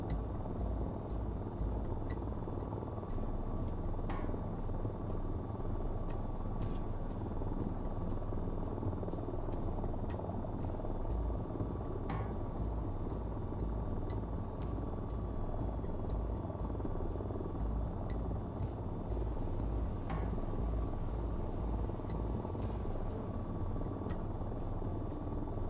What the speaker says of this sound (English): They're definitely not going to hear this helicopter buzzing through the valley.